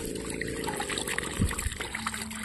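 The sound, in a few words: water flowing from a water pump being tested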